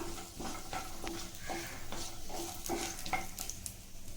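Onions and peanuts frying in oil for a hotel-style ivy gourd fry, a continuous close sizzle with rhythmic scraping stirs of a spoon against the pan.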